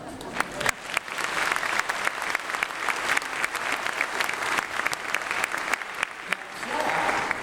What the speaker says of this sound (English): We have to do that clap because they have to learn to end songs at the same time.